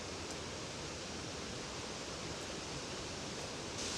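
A waterfall on Yakushima pours in a steady, dense broadband roar, unbroken and fairly distant, with no voices.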